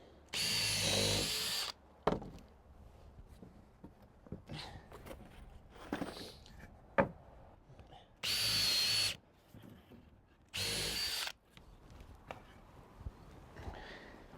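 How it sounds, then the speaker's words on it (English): A power drill whirs in three short bursts, pre-drilling wood for a deck, separated by quieter stretches of knocks, shuffling and handling noises. "my next step is to go around and pre-drill the wood"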